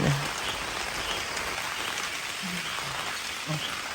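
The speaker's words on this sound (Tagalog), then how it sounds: "Ulan." Steady rain hisses softly in the background, an even wash of sound with a few faint low knocks.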